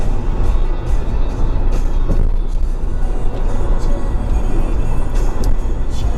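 A Hyundai Veloster 1.6 Sport, a 2016 model, is driven fast into a curve, its engine and road roar loud and steady throughout with a brief swell partway through.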